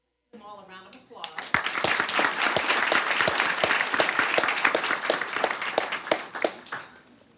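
Sustained audience clapping fills a school board meeting room, many hands beating together steadily for several seconds after a short spoken introduction at the start.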